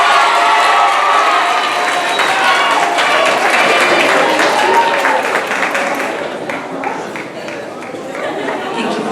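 A large audience at a 2019 middle school graduation and promotion ceremony claps in a dense, loud wash of applause that slowly thins and fades toward the end.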